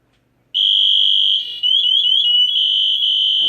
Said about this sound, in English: that actually activates the alarm as a manual in case a firefighter needs to activate it himself